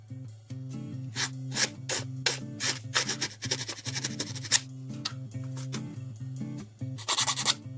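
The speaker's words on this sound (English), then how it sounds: "Very gently rub those nubs down." Plastic nubs being sanded off Bandai 1/144 HG Gundam model kit parts (GN-008 Seravee Gundam), heard as steady close rasping strokes in a repeated back-and-forth rhythm, heard alone with no talking.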